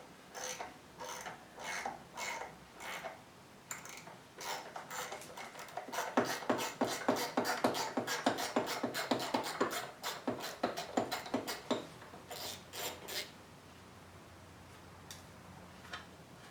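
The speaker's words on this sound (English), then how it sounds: "it'll be quite easy to thread this aluminum" A hand tap cuts M6x1 threads into aluminum for a grease fitting, giving a close, rhythmic series of sharp ratcheting clicks that speed into a dense run of turns before slowing to spaced ticks.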